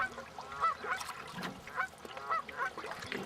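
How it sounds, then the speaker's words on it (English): Two geese honk near a walking path by the water in short, scattered calls of moderate loudness, set against a steady outdoor background hiss. "And these are the very same two geese."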